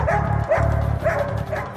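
Police dogs barking repeatedly in a tense street standoff, a rhythmic run of deep, close barks over a rumbling background.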